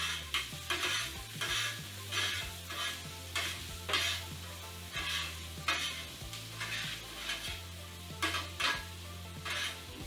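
Onions with salt and pepper sauteing in a pan for a Philly cheesesteak made with Impossible meat, a soft continuous sizzle broken by repeated bursts of stirring and scraping, close and fairly quiet.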